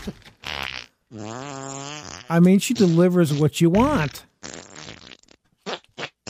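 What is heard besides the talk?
fart sound effects played by Alexa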